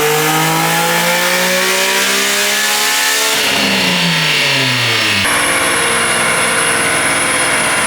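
A turbocharged Nissan 350Z revs hard on a dyno, loud and close, its engine tone climbing steadily through the gears before a sudden drop and a high turbo whine over the rasping exhaust.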